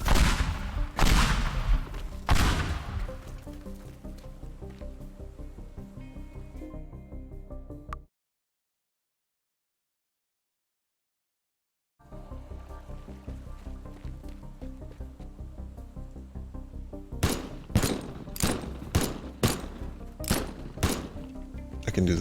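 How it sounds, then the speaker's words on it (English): Pipe bombs detonating in the voxel destruction game Teardown, a series of loud booming blasts with crumbling debris, then a few seconds of silence, followed by a rapid cluster of sharp explosive cracks. "More terrible pipe bombage."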